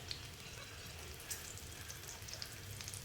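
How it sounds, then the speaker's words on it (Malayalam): A small piece of onion with fennel seeds, black pepper, cinnamon, cloves and cardamom fries in hot oil, giving a faint, steady sizzling hiss with scattered tiny pops, quiet and close, with no speech. "ഈ എണ്ണ ചൂടാകുമ്പോൾ നമ്മൾ എന്ത് ചെയ്യണം ഒരു ചെറിയ കഷ്ണം ഉള്ളി ഇട്ട് കൊടുക്കുക പിന്നെ നമ്മളെ പെരിഞ്ചീരകം ഇട്ട് കൊടുക്കുക"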